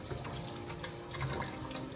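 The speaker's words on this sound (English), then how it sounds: "add enough warm, not hot, water to fully moisten this little puck of soil" Warm water pours from a tap onto a small puck of cat grass soil, a faint, steady running splash with gurgling bursts, no voices over it.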